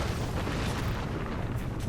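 Bangalore's ultimate artillery barrage in Apex Legends, a continuous heavy rumble of overlapping booming explosions, loud and dense with no pauses and no voices over it.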